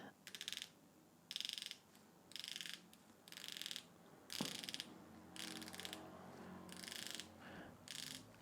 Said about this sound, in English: just wanted to slip in the bezel action